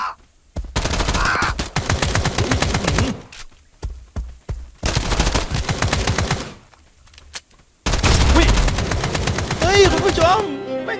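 Rapid automatic gunfire from the video game Escape from Duckov comes in three long, loud bursts separated by short pauses, with a brief sound effect near the end.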